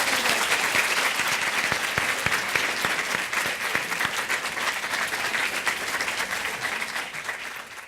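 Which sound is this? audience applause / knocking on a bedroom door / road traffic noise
audience applause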